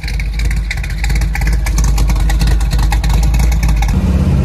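A 1967 Plymouth Barracuda with open headers pulls away on a wet road, its engine a loud, steady rumble that fills the clip with a throaty exhaust note, shifting lower near the end.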